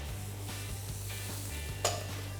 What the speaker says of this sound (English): These veggies need to cook for about 4 to 5 minutes on a high heat. Just stir fry them